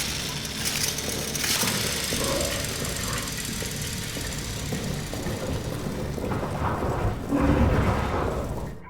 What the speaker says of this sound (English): the unmistakable sound of an otherworldly monstrosity crashing around its little holes is the response you get